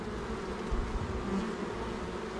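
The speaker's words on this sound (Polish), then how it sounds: "Pszczoły się dwie wygryzają." Honey bees buzzing steadily on an opened hive frame during an apiary inspection, a dense, constant close hum with slight swells, no talking.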